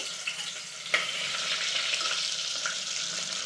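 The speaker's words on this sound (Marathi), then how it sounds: "आता मी त्याचा हे लसूण टाकते" Garlic drops into hot oil tempering for a village-style buttermilk kadhi, giving a loud, steady, close sizzle and hiss with a brief sharper crackle as it lands.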